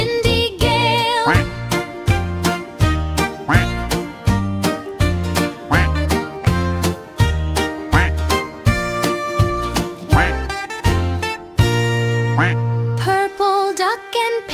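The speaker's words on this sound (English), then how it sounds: "Four green ducks near a tree, quack together" Cartoon ducks quack in a bouncy children's song, with short rhythmic quacks repeating over a steady music beat and a sustained tone near the end.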